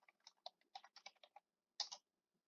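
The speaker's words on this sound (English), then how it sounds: "I'm going to type them in just to see the ones that we haven't done already" Keywords typed on a computer keyboard in bursts of quick clicking keystrokes, close and clear, with a short pause before a final pair of sharper key presses and no talking.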